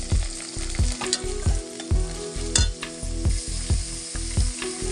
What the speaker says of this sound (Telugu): ఎండు చేపలు వేసుకొని బాగా ఫ్రై చేసుకోవాలి